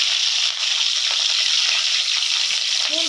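Dal, cumin and green chili fry in hot oil for a Tamil potato masala, giving a loud, steady close-up sizzle and crackle with a few faint stirring scrapes near the end.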